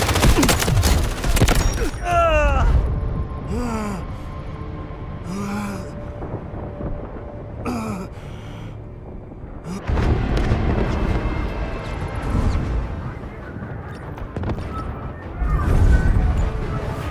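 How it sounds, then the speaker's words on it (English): Artillery barrage in the Delta Force video game, with heavy booms and crashing impacts rolling in clusters, some loud and close, over a steady battle din, with occasional game voice callouts. "Artillery barrage ready."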